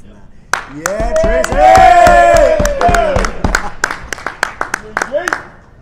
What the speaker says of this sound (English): he needs a longer applause than that